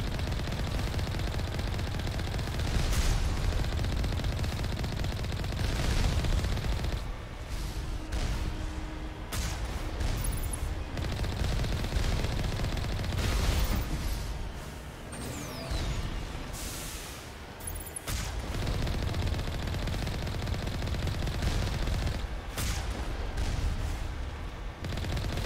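Enemy gunfire in Mass Effect combat, repeated bursts and heavy shots pounding in irregular clusters over a long stretch, some loud and close, with brief lulls between volleys.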